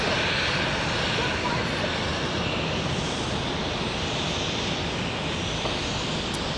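A Delta Airlines Boeing 757 roars steadily at Phoenix Sky Harbor Airport, a dense broadband engine rumble that holds at a constant level throughout with no clear rise or fade.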